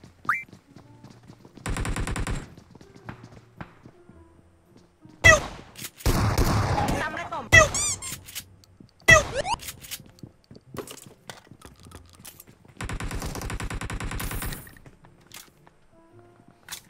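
Automatic weapon fire in PUBG Mobile, several separate bursts of rapid shots of about a second or two each, separated by quiet gaps and a few single sharp cracks, crisp and close.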